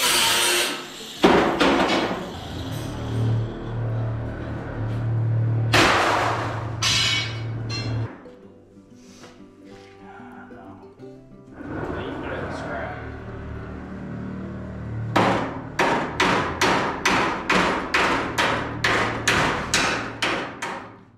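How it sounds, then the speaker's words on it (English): Metal hammering in bursts, with a fast run of sharp, regular blows toward the end, alongside a running engine hum. "is now hammering out each of the spots where he made a cut"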